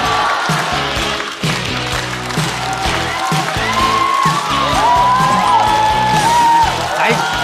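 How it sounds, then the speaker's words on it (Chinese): Studio audience at a stand-up comedy competition show breaking into loud, sustained applause with some whoops and cheers, with music playing underneath throughout. "掌声欢迎大鹅"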